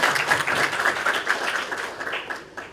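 An audience applauds graduates and facilitators at a launch ceremony, with dense steady clapping filling the room at close range that slowly tapers off toward the end.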